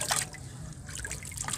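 Muddy water trickles and dribbles from a container onto crumbled multani mitti clay, a soft continuous pour with faint splashy edges, close by and without talk.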